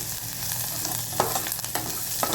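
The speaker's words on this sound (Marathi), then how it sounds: "सगळे मसाले भाजले गेले आहेत" Onion and spices frying in a pan for oats khichdi, a steady close sizzle with occasional scraping stirs and small pops.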